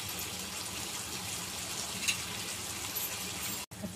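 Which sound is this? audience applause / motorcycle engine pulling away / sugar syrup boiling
sugar syrup boiling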